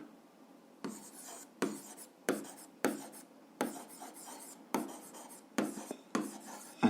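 Pen strokes writing an algebra equation by hand on paper, a series of short scratchy bursts in an uneven rhythm, close and fairly quiet, with brief pauses between strokes.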